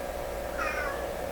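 A cat meows once in a drawn-out, rising-then-falling call, fairly faint over a steady background hum, with no talking.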